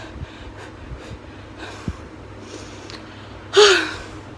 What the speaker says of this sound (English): So I'm so out of breath.